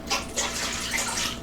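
Two cups of warm water poured into a mixing bowl with yeast: a close, steady splashing gush of running water, loud and continuous for about a second and a half, with no talk.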